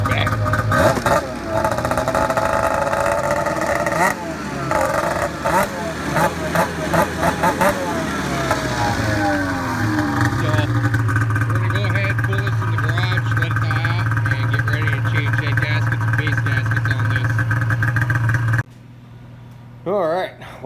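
The 800 cc engine of an Arctic Cat Pro XR snowmobile, burning coolant, idles steadily with a loud low drone, with revs rising and falling early on before it cuts off abruptly near the end.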